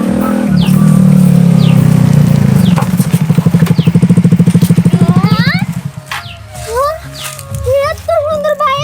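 A motorcycle engine runs loud and close, a steady rumble breaking into rapid pulsing before dying away, with children's voices chattering and squealing over the end.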